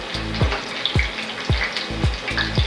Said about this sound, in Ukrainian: З обох боків смажиться.